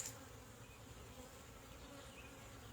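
Honeybees buzz around an open hive during an inspection, a faint, continuous drone close by with no voices over it.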